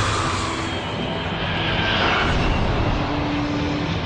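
Airplanes land and take off at Los Angeles International Airport, heard as a loud, steady jet and engine roar that holds for several seconds, with no voices over it.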